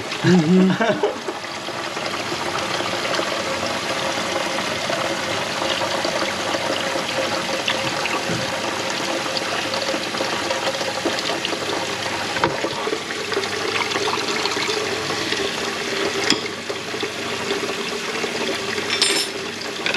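Tap water runs steadily and trickles as a rested flour-dough ball is washed in a sieve for a homemade gluten test, a continuous close splashing stream lasting throughout.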